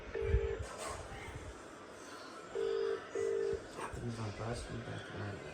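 Phone keypad dialing tones while placing a call: three short, clear beeps, the first alone and the next two close together, over a quiet room, followed by a faint voice.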